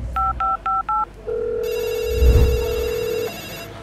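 Calling a restaurant: four short dual-tone beeps of dialing, then a long ringback tone and an electronic chime-like ring, close and clear with no talk.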